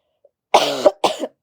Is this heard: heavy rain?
no